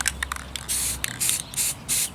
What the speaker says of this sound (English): Alright, let's do a test spray over here.